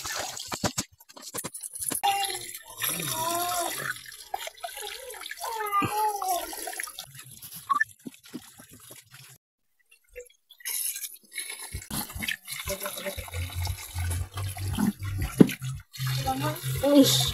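Ijiachu being washed by hand under running water, with splashing, trickling and dripping that rise and fall, and a brief pause partway through; a person speaks over parts of it.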